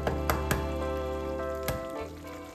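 Bread dough rounds cooking in a frying pan give off a steady, close sizzle. A few sharp clicks and knocks sound over it, with no one talking.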